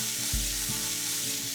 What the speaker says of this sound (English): Nice little sizzle going on here.